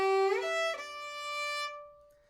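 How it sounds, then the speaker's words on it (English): A solo fiddle plays a short lick in G, sliding upward from the root to the third before settling on a sustained tone that fades out. "It's a slidey lick, but it's a slidey lick that brings us up to another position."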